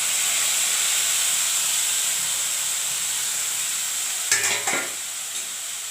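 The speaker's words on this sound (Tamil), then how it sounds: "இப்போ இதை நல்லா எண்ணெயில் சுருள வதக்கட்டும்" Onion, ginger and garlic fry in oil with a dense, close, continuous sizzle, broken near the end by a few quick stirring scrapes against the pan.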